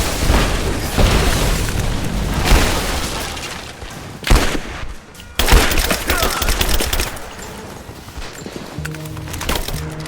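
Gunfire in a firefight in the video game Rise of the Tomb Raider: loud repeated shots and rapid automatic bursts with booming impacts, dense and continuous, with brief lulls between volleys.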